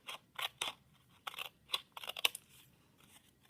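Wavy-edge scissors snipping collagraph printmaking material, a handful of short, crisp close-up cuts in uneven rhythm, heard alone in a quiet room.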